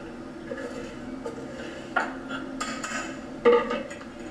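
A utensil stirs a gelatin mixture in a bowl, with soft scraping and several sharper clinks of metal against the dish spread irregularly across a few seconds, close and fairly quiet.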